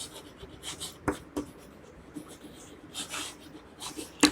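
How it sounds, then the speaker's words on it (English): A pen writes a maths solution for a fractions exercise, making close, scratchy strokes on paper in short irregular bursts with small taps between them. "So here we will write total weight."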